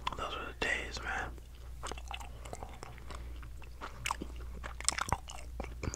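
Bubble gum is chewed right at the microphone in a wet, squishy rhythm with little smacks and pops, interspersed with soft whispered speech.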